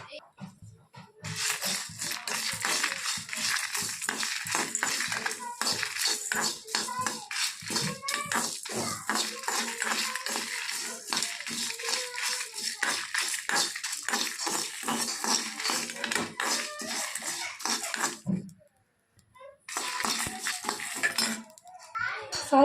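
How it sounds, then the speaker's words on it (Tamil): Whole spices being dry roasted and stirred in a hot kadai over medium flame, giving a dense, continuous scraping and rattling of seeds against metal with a brief pause near the end. "எல்லாத்தையும் ஒன்றா போட்டு வறுத்துக்கலாம்."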